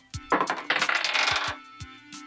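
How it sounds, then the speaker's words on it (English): Dice are rolled in a few sharp clattering bursts, tumbling and bouncing with several hard clicks before settling, close and clear with nothing else around them. "Let's roll a dice and find out."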